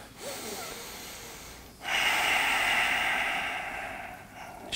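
A deep breath during a yoga session, taken lying on a mat: a close, airy inhale followed by a longer, louder exhale, with no talking.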